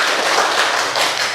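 A group of participants in a teacher training session clapping together in a room, a dense, steady burst of hand claps lasting about a second and a half.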